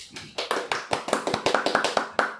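A small group of people claps in a brisk, slightly uneven burst of about a dozen sharp hand claps, close and fairly loud, with no voices.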